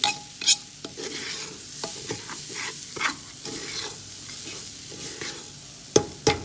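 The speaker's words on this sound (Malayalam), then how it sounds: "ഇത് നന്നായിട്ട് ഇളക്കണം" A spoon stirs garlic butter rice in a hot pan over a constant sizzle, with repeated scraping strokes and a couple of louder clacks against the pan.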